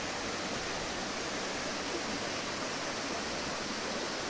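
Steady broadband rush of the Cascata Serra Velha waterfall in a green wooded spot near Igrejinha, continuous and unbroken, with no talking.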